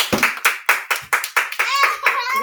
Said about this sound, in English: All right, now clap it up.